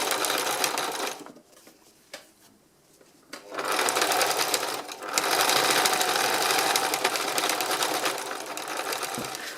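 A sewing machine stitches an ivy design onto fabric, running in a fast steady whir that pauses briefly, then resumes for a long continuous run, close and fairly loud.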